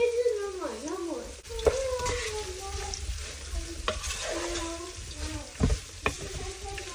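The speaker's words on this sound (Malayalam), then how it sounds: "ഒരു മീഡിയം ഫ്ലെയിമിലിട്ട് നമുക്കിത് വഴറ്റിയെടുക്കാം" Shallots sauté in a pan over a medium flame, a steady sizzle with repeated stirring scrapes throughout, fairly close, while a voice talks over the cooking.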